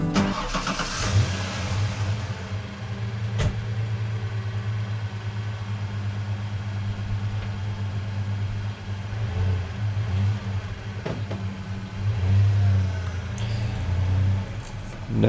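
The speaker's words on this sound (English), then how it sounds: "Now you're going to see me here kind of rocking my truck back and forth quite a bit." A manual-transmission truck engine runs steadily close by, its note rising and falling as it revs gently while rocking back and forth, with a few clunks and knocks along the way.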